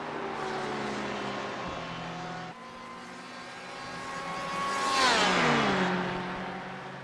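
Race cars in the iRacing GTE Sportscar Series, sweeping through the Porsche Curves at Le Mans: a steady, layered engine drone from several cars that swells around the five-second mark as engine pitch falls and rises.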